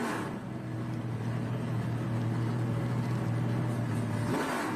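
A race car engine roars steadily at high revs during a VIR SpeedTour race, a loud sustained drone that holds its pitch before shifting abruptly at the end, like a race car accelerating past.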